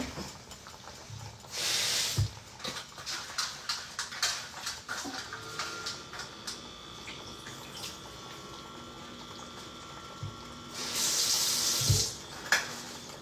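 Basil washed under a running kitchen tap, two bursts of gushing water separated by quieter handling clatter and rustling, fairly faint overall.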